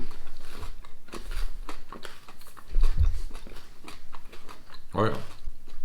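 Crunchy plant-based chocolate with almonds and salted caramel is bitten and chewed close up, with soft crunching under quiet talk and one sharper bite near the end.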